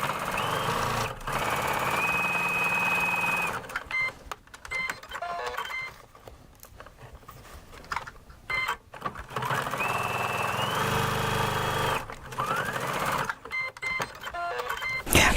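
A sewing machine stitches around the corners of a fabric bag in bursts, its rapid motor whir starting and stopping between quieter pauses, close and loud.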